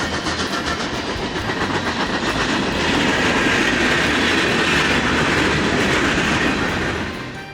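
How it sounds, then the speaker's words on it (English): A freight train barrels fast through the small Missouri town of Hermann, making a loud continuous roar with rhythmic clickety-clack of wheels on rails that holds steady and eases slightly at the end. "the freight trains come through here barreling pretty darn fast."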